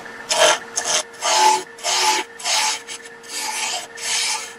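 A wooden jar lid blank, about an inch thick, is rounded off on a lathe; the tool rasps against the spinning wood in six or seven short, even scraping bursts separated by brief pauses, with no one talking.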